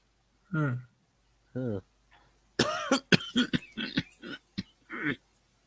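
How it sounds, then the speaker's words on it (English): A couple of rough, hacking coughs up close, followed by a person talking. "It looks like you have a pretty nasty cough."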